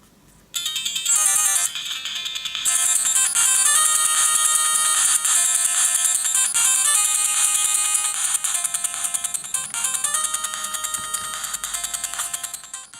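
Bright, beeping chiptune game music plays continuously from a Pocket Go V1.3 handheld console's small, slightly tinny speaker, with busy melodic tones and no talking.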